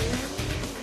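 Drift car running with an abnormal-sounding engine at a drift event grid, a loud continuous rumble with rough tire-squeal-like overtones filling the short moment, no talk.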